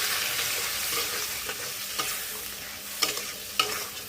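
Ground spice paste sizzles in hot oil with fried potatoes in a pan while a spoon stirs and scrapes it, a constant frying hiss broken by a few sharp scraping knocks.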